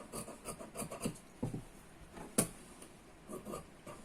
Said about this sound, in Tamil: இப்பொழுது காலேஜ் குறைக்கப்பட்ட பகுதியில் வெட்டுகிறேன்.